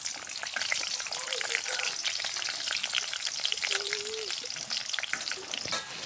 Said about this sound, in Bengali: পেঁয়াজটা আমাদের ভাজা হয়ে গেছে